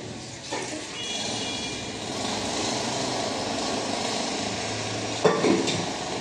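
Boiled shukto, a Bengali vegetable dish, poured into a hot kadai, giving a continuous steady sizzle with a brief louder splash and clatter near the end.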